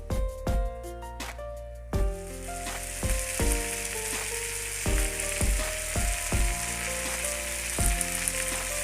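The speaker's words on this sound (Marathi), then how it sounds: "मध्यम आचेवर ना बांगडा ना अगोदर खालच्या साईडला ना तळून घेऊ" Bangda mackerel frying in oil over medium heat in a Maharashtrian-style fish fry, a steady hiss of sizzling running beneath louder plucked, rhythmic background music throughout.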